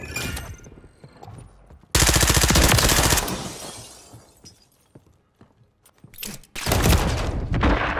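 Gunfire in the video game Call of Duty: an intense burst of rapid automatic fire with shattering impacts, then a lull and a second loud burst of shots near the end.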